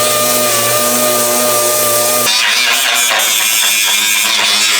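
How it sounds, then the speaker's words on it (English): A DA sander stripping paint to bare metal on a Toyota body panel: a loud, steady high whine that shifts pitch partway through as the pad bites into the surface, continuous and close. "I'm just gonna grab the DA and just kind of strip this entire corner off"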